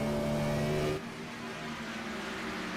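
Race car engine at Pocono during a NORA Retro Cup oval race, a loud steady droning engine note that abruptly drops and flattens partway through, heard without talk.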